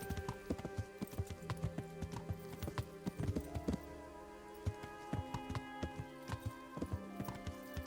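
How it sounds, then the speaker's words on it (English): A horse's hooves clip-clop steadily up a mountain path at night in the video game Kingdom Come: Deliverance, a quiet, even rhythm over a soft musical background with no talking. "when you're going up a mountain path on a horse with a torch in the dark."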